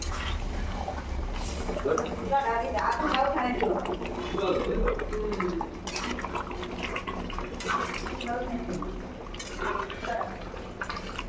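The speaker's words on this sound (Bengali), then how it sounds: "এবার ঝোলটা দিয়ে দেবো।" Gravy is poured into a large pot of mutton curry, giving a soft liquid pouring and splashing sound with some dripping, fairly quiet, under someone talking.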